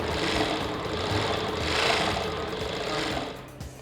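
An industrial sewing machine runs at high speed, giving a loud, continuous dense whirring chatter that holds steady throughout, with no voices over it.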